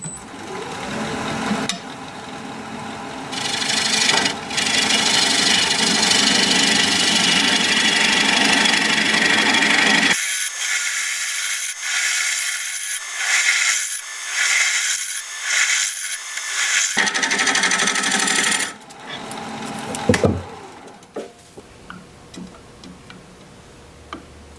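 A wood lathe hollows out the middle of a bowl, the gouge producing dense scraping, hissing bursts that cut out for stretches and return in rapid chattering pulses, close and loud.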